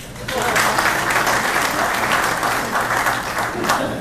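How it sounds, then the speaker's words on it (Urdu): An audience at a Jeddah tribute event for Baba-e-Urdu applauds loudly and steadily in a hall, a dense wash of clapping that starts abruptly after a short quiet moment and holds for several seconds. "تالیاں ہو جائیں ان کے لیے۔"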